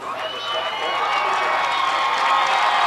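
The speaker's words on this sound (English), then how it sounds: "And the applause you hear below us, folks, is for their halfback, number 21, Bub Taylor, coming out of the ball game." Steady crowd noise of a high school football game, spectators applauding halfback number 21 as he comes out of the ball game, a sustained distant wash of clapping and cheering from the stands.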